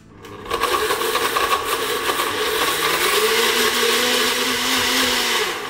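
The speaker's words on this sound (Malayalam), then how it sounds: "ഇനി മിക്സിയുടെ ജാർ അടച്ച ശേഷം ഇത് നന്നായിട്ട് ബ്ലെൻഡ് ചെയ്തെടുക്കുക" Electric mixer jar whirs up to speed, blending an oats smoothie in a loud, steady motor drone whose pitch rises and then drops slightly as the mixture thins, close and continuous.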